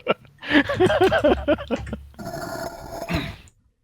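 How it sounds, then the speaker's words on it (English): A reused growl sound effect plays as a stone moves in Space Quest II: Vohaul's Revenge, Apple IIGS version: a rough, throaty, pulsing growl followed by a grinding hiss, loud and close. "They just reused the growl sound effect when they moved the fucking stone."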